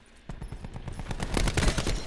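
Rapid bursts of wall-penetrating gunfire in Call of Duty Black Ops 4, a quick rattling volley of close shots that starts abruptly and grows denser and louder over two seconds, with no talk.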